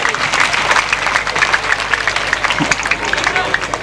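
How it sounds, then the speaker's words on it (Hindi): Dense audience applause at an Independence Day stage show, loud, close and continuous clapping with crowd noise mixed in, lasting the whole few seconds. "एक दफा भरपूर तालियां होनी चाहिए।"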